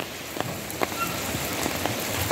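Steady rain shower falling outdoors in Sunderland, a continuous close hiss with scattered louder drops pattering on surfaces throughout.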